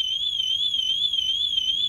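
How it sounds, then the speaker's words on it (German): Cobra alarm system in a motorhome triggered into full alarm, a loud continuous warbling electronic siren tone that wavers steadily up and down, heard alone and close. "Die Alarmanlage erfasst das sofort und löst sofort den Vollalarm aus."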